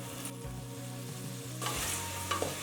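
Chopped tomato hits a pan of sizzling ginger garlic paste for a mixed vegetable kootu, giving a steady close frying hiss with a sharper burst midway and a couple of spoon scrapes near the end.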